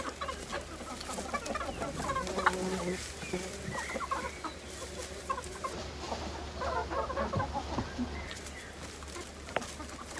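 Several hens cluck and murmur in short bursts close by as they are given grass, with a steady low hum in the background and occasional rustling.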